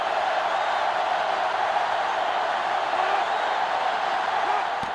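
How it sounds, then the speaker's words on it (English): Stadium crowd at an NCAA college football game, Ohio State against Penn State, roaring loudly in a steady, dense wall of cheering that holds without break from start to finish. "this crowd is going absolutely insane"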